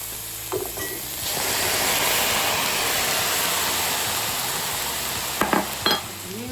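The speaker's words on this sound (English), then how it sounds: "Now I'm gonna drain the Pinto." Cooked pinto beans poured into a strainer, a steady rushing splash of liquid lasting several seconds, bracketed by a few close clanks of a pot and utensils, with no talking.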